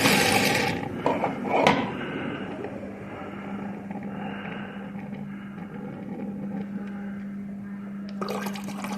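Water runs from the dispenser of a Samsung Family Hub American fridge freezer, a steady hiss and trickle with a low mechanical hum, preceded by a couple of brief clicks and clunks at the start.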